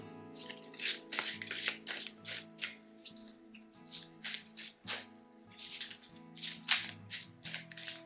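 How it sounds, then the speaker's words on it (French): Oracle cards being shuffled by hand, a steady run of crisp riffling and flapping bursts repeating every half second or so, close and clear over a soft sustained musical drone. "Je vais déjà battre les cartes, voir s'il y en a qui sautent ou pas du tout."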